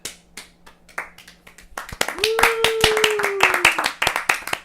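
Sparse hand claps meant as mock applause come first, then a denser run of claps under a sustained sung or whistled tone, close and moderately loud.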